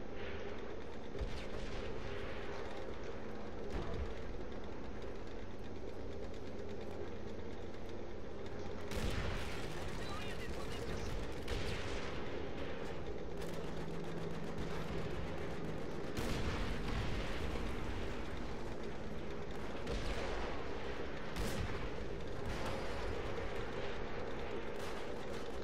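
Tank battle in the video game World at War, with dense, continuous gunfire and heavy booming blasts rumbling throughout, sharper shots and explosions cutting through at intervals.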